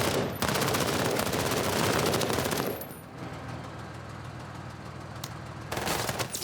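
Automatic gunfire from a squad engaging hostiles in the tactical game Menace: a long, dense burst of rapid shots, a quieter lull, then another burst near the end, with no talking.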